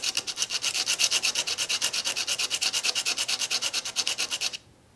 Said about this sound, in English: now we're just going to take this and sand it a bit on a flat surface